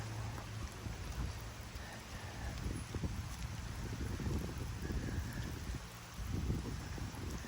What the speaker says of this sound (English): now we're gonna go out in the rain